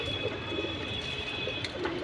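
Army pigeons cooing softly and continuously close by in their coop in Kerániganj, Dhaka, under a steady high background hum.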